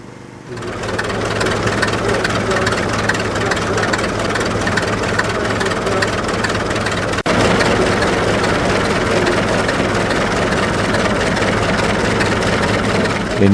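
A Fordson Model F tractor engine with trembler coil ignition idles steadily and loudly throughout, a low rumbling drone with a single sharp click partway through.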